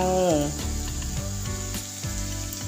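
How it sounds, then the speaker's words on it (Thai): Pickled bamboo shoots stir-frying in curry paste oil give a steady, close sizzle with stirring scrapes, and no voices. "ผัดหน่อไม้ไปก่อนแล้วกัน"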